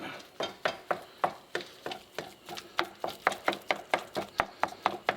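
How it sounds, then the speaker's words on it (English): Ground turkey meat stirred and flipped in a pan with a utensil, a steady series of about fifteen sharp scraping knocks at a regular brisk rhythm, close and clear over a faint sizzle. "After I kind of flips it and mix it about 2-3 times"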